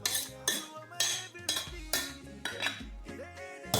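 Utensil stirring homemade meat pie filling in a pot with olive oil, giving repeated scraping clinks of metal against the pot in a steady rhythm of about two strokes per second, close and clear with no talk.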